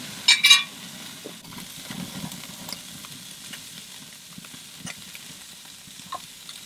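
Fish fillets sizzle quietly in a pan with green onions and cilantro, a faint steady frying hiss after a brief loud clatter at the start, with soft occasional clinks.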